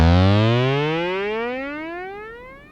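A Moog Matriarch synthesizer sounds a single rich, buzzy note that glides steadily downward in pitch and slowly fades, loud and alone.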